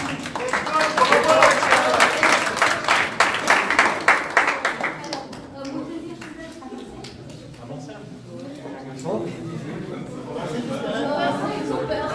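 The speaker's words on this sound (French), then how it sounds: "Tous les coachs qui ont participé à ce week-end, un grand applaudissement." A hall audience at a start-up competition final claps loudly for the coaches. The dense clapping fades after about five seconds into murmuring chatter and talking voices.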